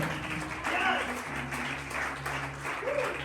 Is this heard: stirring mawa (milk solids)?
no